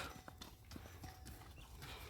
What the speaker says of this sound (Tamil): குதிரை இந்த சைடு அந்த சைடு நடத்தி கொடுங்கப்பா